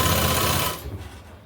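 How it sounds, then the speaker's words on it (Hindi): Stitching a kurti sleeve seam, a sewing machine gives a short burst of busy mechanical rattle that cuts off after under a second, leaving faint room noise. "एक सिलाई हमने बाजू में लगा ली और दूसरी सिलाई लगा रहे हैं"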